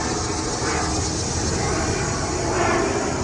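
An airplane passing overhead outdoors: a steady, loud broadband engine roar filling the whole stretch, swelling slightly near the end, layered with constant buzzing insects.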